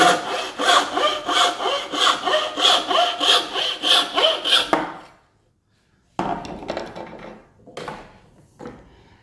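A hand saw cuts a thin strip of wood in about a dozen quick, rhythmic back-and-forth strokes, loud and close, then stops for a moment before a few looser scraping strokes resume.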